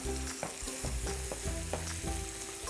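Sweet Maui onion frying in a pan for fried rice, a steady close sizzle and crackle filling the whole stretch, with a few scrapes and stirring knocks on top.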